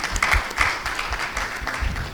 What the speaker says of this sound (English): Please let's give her a round of applause as well.